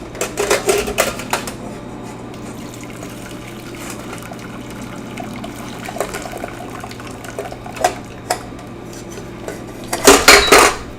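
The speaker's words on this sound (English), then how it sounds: "I'm going to pour it into our strainer." Cooked spaghetti is poured from a metal pot into a strainer with holes, with clanking pot and metal clatter at the start and again at the end around a quieter wet pouring stretch.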